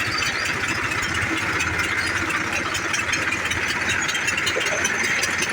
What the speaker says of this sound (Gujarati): આ એન્જિન ક્યાં આને અંદરથી પાણી ખીચી અને બહાર કાઢે